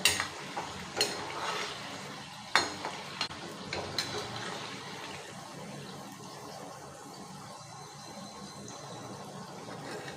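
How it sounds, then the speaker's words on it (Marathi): Moong dal bhaji fritters fry in oil over a medium flame, giving a soft steady sizzle with a few sharp utensil clinks early on, fairly quiet and close, no speech. "नेहमी मिडियम फ्लेम करायची आणि ती तळून घ्यायची"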